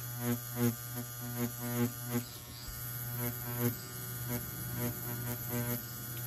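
Tattoo machine buzzes steadily during brush or feather shading, a constant close electric hum with light rhythmic pulses as the needle works in quick strokes.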